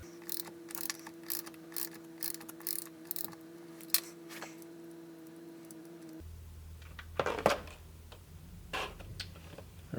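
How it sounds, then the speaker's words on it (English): A ratchet clicks in quick, even runs as it backs out the 14 mm drain plug on a Jeep Cherokee XJ transmission pan, close and fairly quiet, with a short pause and a change in background hum partway through. "you're just going to want to unscrew the drain plug first."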